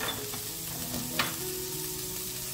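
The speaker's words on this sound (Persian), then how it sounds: "هویجم یه مقدار تفت میدم" Carrots sautéing in a dry pan with no oil for a milk soup, a quiet even sizzle with a single brief scrape of a utensil, close by and without talk.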